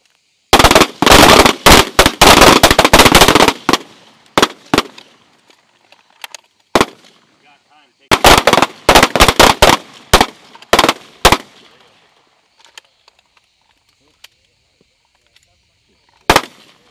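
Rapid strings of loud, close gunshots at a military battalion shooting team competition, two long bursts of sharp cracks followed by scattered single shots and quiet gaps.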